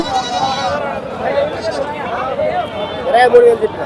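Several goats bleat close by and farther off at the Gudur livestock market, overlapping with a busy crowd of people talking in the background.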